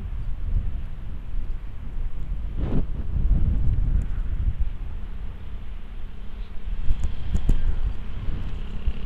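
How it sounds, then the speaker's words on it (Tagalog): Strong wind buffets the microphone in loud, low rumbling gusts that swell and ease during a Honda Fazzio scooter ride, with brief clicks and knocks near the end. "Sobrang lakas ng hangin men."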